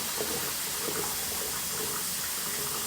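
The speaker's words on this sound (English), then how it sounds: "you are just going to away from you pour the water into the colander." Hot pasta water from a cooking pot poured into a colander, a steady loud rush and splash of water into a sink lasting the whole stretch, with no talking.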